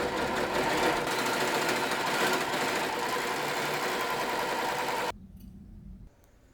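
A Brother 1034DX serger stitching a seam, a fast, steady mechanical whir running close and loud for about five seconds before stopping, leaving quiet room noise.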